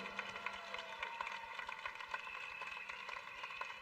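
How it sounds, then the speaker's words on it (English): Crowd at a GE2025 PAP lunchtime election rally applauding new candidates, sustained dense clapping heard faint and distant, with a low rhythmic thumping underneath. "Give them another big round of applause, all our new candidates"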